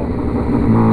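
A Honda CB 1000R motorcycle engine revs loud and close, holding a steady roar that climbs slightly toward the end.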